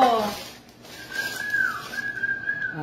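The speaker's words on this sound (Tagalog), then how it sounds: "Tama, sumisipol na asawa ko." A person whistles a single sustained, wavering melodic line that rises and falls, fairly close and clear, with a brief voice at the start and end.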